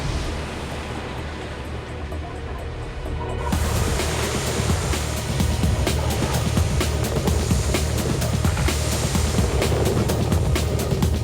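A maxi trimaran reaching fast at night, about 39 knots, gives a loud continuous roar of rushing water and wind across the hull that swells and grows denser partway through, with no voices.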